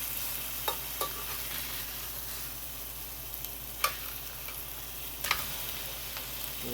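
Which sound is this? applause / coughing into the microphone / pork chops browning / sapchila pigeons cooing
pork chops browning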